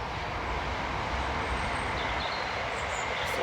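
A train rolling past close to an allotment garden, a steady broadband rumble and rush that holds loud and even throughout with no speech.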